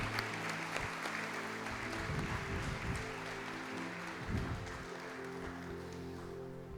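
A church congregation at a Sunday evening service claps together, a steady sustained wash of applause lasting throughout, loud and continuous with slight swells.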